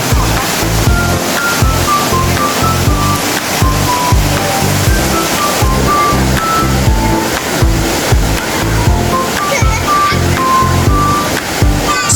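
A stream rushes steadily beside a riverside cafe in Mae Kampong village, a loud continuous watery roar that fills the whole stretch without a break.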